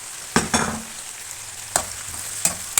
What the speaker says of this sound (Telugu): ఇప్పుడు ఆనియన్ వేసుకున్నామండి, ఫ్రై చేసుకున్నాం